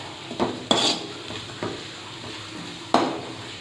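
A spoon stirs cutlet mixture in a pan after salt is added, giving several sharp metallic scrapes and knocks against the pan at uneven intervals, close and clear with no voices.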